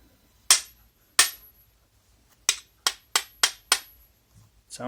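Six sharp metallic hammer strikes on a Wera impact screwdriver, two spaced apart and then four in quicker succession, close and ringing briefly in quiet surroundings.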